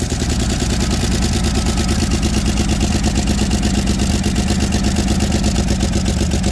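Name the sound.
1961 Chevy Biscayne engine running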